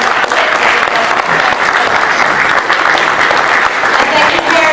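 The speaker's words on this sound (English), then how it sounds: "let's give our kids one more round of applause" A crowd claps loudly and continuously for children at a school board meeting, a dense wash of applause with no pauses.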